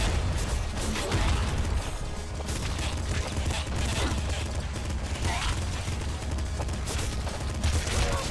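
Dense, relentless gunfire fills the Nuclear Throne video game, a continuous loud barrage of overlapping shots and explosions with no pause.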